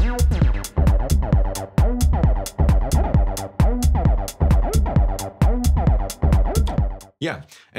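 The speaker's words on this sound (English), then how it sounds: "And the third one is acid bassline" Acid bassline on a Minilogue XD analog synth, squelchy resonant filter sweeps on rapid repeating notes over a steady loud techno beat, ending with a short scratchy burst.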